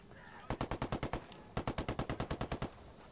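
Two bursts of rapid automatic gunfire in Ghost Recon Wildlands, each about a second long of evenly spaced, punchy shots, separated by a short pause.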